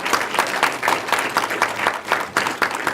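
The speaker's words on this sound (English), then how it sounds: "you deserve a major round of applause because you beat a lot of odds to get there." Audience applause fills the room at a film festival awards ceremony in Nashville, a steady wash of many hands clapping at close range with a pulsing rhythm and no talking over it.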